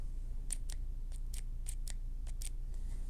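A series of sharp, light clicks from a TI Click EDC pen's mechanism, about ten in irregular succession, close up and quiet against a low steady hum.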